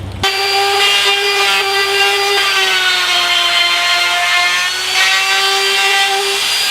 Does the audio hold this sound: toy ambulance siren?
no